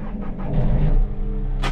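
A telehandler's diesel engine cranks and catches, then settles into a steady close idle with a low rumble and a brief higher burst near the end.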